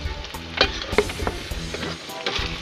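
Banana pieces go into sizzling coconut latik and fry with a loud, close crackle, broken by a few sharper pops and stirring clicks.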